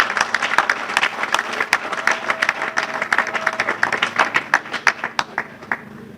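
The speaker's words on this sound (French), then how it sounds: "je revendique un tonnerre d'applaudissements pour l'auteur" Audience applause for an author at a book launch event in Lubumbashi, a dense wash of many hands clapping steadily and fairly close, with sharper individual claps standing out before the clapping thins toward the end.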